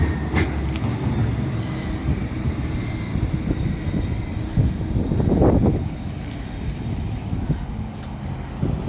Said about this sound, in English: Tram coming in.